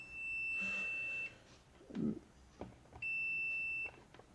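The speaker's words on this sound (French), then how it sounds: "On fait le test de continuité ici et ici. Ben, vous voyez, ça sonne." A multimeter on continuity test emits two sustained, shrill electronic beeps about a second long each, separated by a pause with faint handling noise and a brief low voice.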